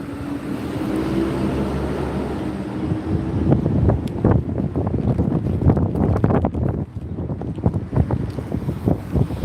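Outdoor wind gusts buffet the microphone in a loud, continuous rumble that surges and dips, with scattered rustling and flapping noises and no talk.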